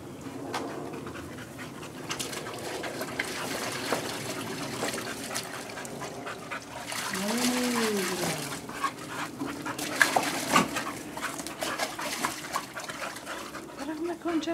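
Dogs splash and play in water, with steady panting, trickling and sloshing throughout, and a short whine partway through; people talk in the background.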